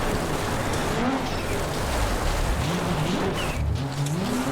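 A Group B rally car engine in Richard Burns Rally revs and shifts through gears, rising and falling whines over a gravelly rushing road noise, loud and continuous.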